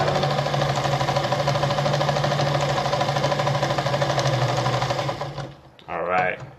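An Adler 489A sewing machine runs steadily and loudly with a rapid mechanical stitching rhythm for about five seconds, then slows and stops before a short final burst.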